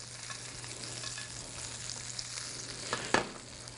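Steak frying in a pan while oily butter mix is spooned over it, a steady close sizzle with a hum underneath and a brief clatter near the end.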